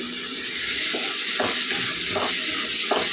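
Cashews fry in a capsicum masala gravy with onions and tomatoes, giving a steady close sizzle with a few soft stirring scrapes at a slow, even pace.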